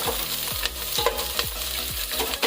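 Green chillies fry in a pan with a loud, continuous sizzle broken by rhythmic stirring strokes about every half second, close and busy.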